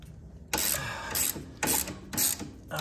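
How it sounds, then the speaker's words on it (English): A cheap socket wrench ratchets on a 16 mm bolt of a 2016 Harley Davidson Street Glide motorcycle, with four quick bursts of close, rapid clicking separated by brief pauses. "Got this cheap little socket here."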